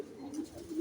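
Racing pigeon arriving at a loft in San Fernando, Pampanga, giving a soft, faint cooing call with a gentle rising warble, quiet and close.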